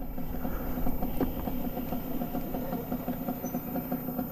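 Electric big bike from Utitco Motors giving off a rattly, chugging motor note like a two-stroke tricycle, a steady uneven knocking pulse at moderate level, alone without talk.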